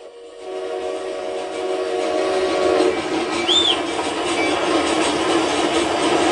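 A train rumbles past along the tracks in the Western video game Red Dead Redemption, a loud steady rolling roar with a brief whistle tone partway through and no talking.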